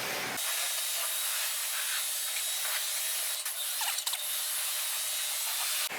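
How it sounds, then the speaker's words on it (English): Steady water spray rinsing soap off a Tesla car with paint protection film, a loud, continuous hiss that starts abruptly, runs unbroken for several seconds with slight wavering, then cuts off sharply. "We just keep rinsing."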